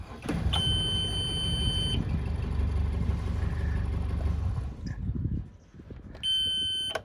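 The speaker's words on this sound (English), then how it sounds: "You can kind of see how easy it is to start these motors." Yanmar diesel engines on a Fountaine Pajot Marquises 56 catamaran start and idle with a low, steady rumble, while high electronic warning beeps sound at the start and end.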